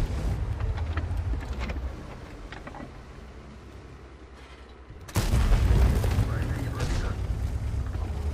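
A tank cannon firing in World of Tanks: after a quieter stretch of engine rumble, one heavy boom lands abruptly and leaves a loud, sustained low roar behind it, with speech faintly present.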